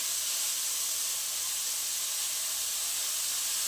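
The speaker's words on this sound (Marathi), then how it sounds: "आता कांदा छान असा लालसर होईपर्यंत आपल्याला परतून घ्यायचा आहे" Chopped onion sautéing in a pan for Maharashtrian-style matar kurma, a steady close hiss and sizzle that holds evenly throughout with no talk.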